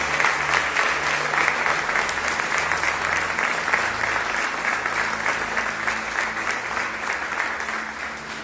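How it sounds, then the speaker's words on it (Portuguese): Congregation in a church applauds, a steady dense clapping that carries on for several seconds at an even level with a low hum of voices underneath. "Vamos aplaudir ao Senhor."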